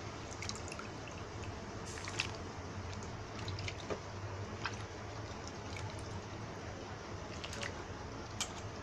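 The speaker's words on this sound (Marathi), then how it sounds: "ही जी बटाट्याची कापं काढलेली आहेत ना किसलेली, ही याच्यामध्ये टाकायची पाण्यामध्ये" Grated potato slices for homemade potato wafers tip into a pot of boiling water, giving a steady watery bubbling hiss scattered with small drips and splashes, close and fairly quiet, with no talking.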